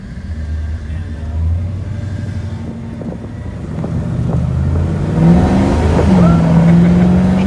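A car speeds down over a curve in a parking lot, its engine and tire noise building steadily under wind buffeting, with a faint voice near the end.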